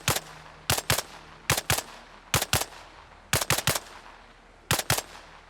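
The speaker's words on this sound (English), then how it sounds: "it took way too many shots to kill that guy" Gunfire in the video game Arma Reforger, rendered as sharp bursts of two or three close shots repeating in clusters, loud and near with a quiet gap between each volley.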